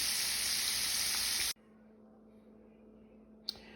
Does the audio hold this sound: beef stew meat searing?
yes